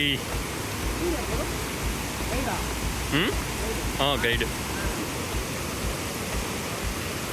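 A waterfall on the trek to Nethravathi Peak roars close by with a steady, dense rushing that fills the scene while hikers speak briefly over it.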